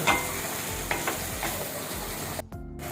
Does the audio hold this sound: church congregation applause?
no